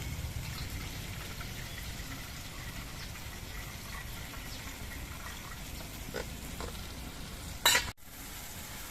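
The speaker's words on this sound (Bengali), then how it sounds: "এবার মশলাগুলো কিছুক্ষণ কষিয়ে নেব" Spices sizzle and fry in oil in a pan for a vegetarian mung dal and pointed gourd dish, a steady soft crackle with occasional stirring scrapes, faint and continuous, ending in a brief louder clatter.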